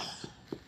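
A child gives a few short, soft coughs spaced apart during a massage, close by and fairly quiet.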